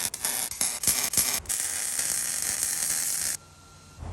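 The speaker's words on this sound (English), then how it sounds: "removing the big bolt so he can get access to a few more welds he needs to make" A ratchet cranks out a big bolt on a solid-axle-swapped third-generation Toyota 4Runner axle knuckle, rapid loud clicking in bursts, up close, ending with quieter background noise.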